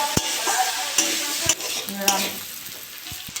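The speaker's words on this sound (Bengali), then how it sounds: "একটু হলুদ দিয়ে দেবো, লবণ দিয়ে দেবো, ভালো করে ভেজে নেবো।" Cauliflower frying in a pan with turmeric and salt: a steady close sizzle broken by sharp scraping knocks of a spatula stirring it, with no voices.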